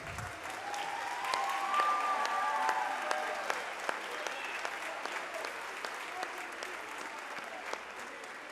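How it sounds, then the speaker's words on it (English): Steady applause from a sizable crowd at a middle school band spring concert, a dense even wash of clapping sustained throughout with faint murmurs underneath. "give them a round of applause"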